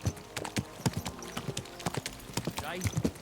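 Rhythmic horse hooves clip-clopping nearby, sharp uneven knocks, while someone speaks over them.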